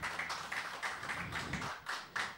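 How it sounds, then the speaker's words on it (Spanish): Applause from an audience at a televised music show, a brief run of clapping in uneven bursts, fairly distant and moderate in level. "El aplauso bien fuerte"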